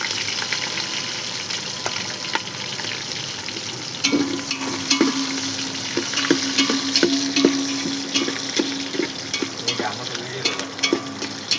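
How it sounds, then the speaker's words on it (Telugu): Ingredients frying in sunflower oil in a pan for biryani, a steady loud sizzle with intermittent scraping and clinks of a stirring spoon, close up and without talk. "మంచి వాసన వచ్చేంత వరకు వేయించుకోవాలి అవి."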